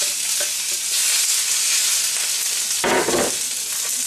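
Loud, steady sizzling of vegetables hitting a hot pan slicked with olive oil, a dense hiss broken by a brief stirring clatter near the end, with no voices.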